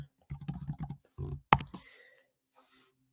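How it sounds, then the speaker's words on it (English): Keys clatter on a computer keyboard as a spreadsheet formula is typed, a quick run of close, fairly quiet clicks followed by a single sharper tap and a fading tail. "I'm going to type equals concatenate."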